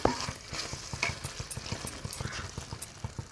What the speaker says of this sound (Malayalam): നമുക്ക് നമ്മളുടെ കുറച്ചൊരു സ്റ്റോക്ക് ഒഴിച്ചു കൊടുക്കാം